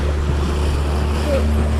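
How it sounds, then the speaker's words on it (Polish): Waves splashing around a small boat out on the water, heard as a loud, constant low rumble of water and wind noise with no distinct breaks. "O kurde fale"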